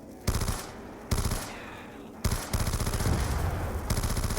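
Rapid automatic gunfire from a weapon in Black Ops 2 Zombies, loud bursts of fast repeated shots broken by brief gaps, with a steady high tone underneath.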